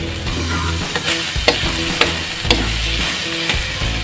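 Chicken with chayote is stirred in a sizzling cooking pan, with a utensil scraping and clacking against the pan in a regular rhythm about twice a second over a steady frying hiss, close and fairly loud.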